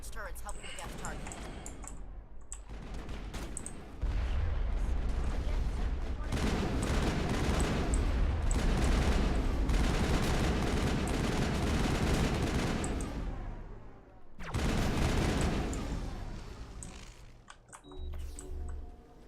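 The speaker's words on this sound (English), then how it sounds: "Ni sé a qué le están disparando." Sustained gunfire and crossfire in the video game Mass Effect, dense rattling bursts that rise after a few seconds and continue for about ten, with pauses and in-game voices talking between volleys.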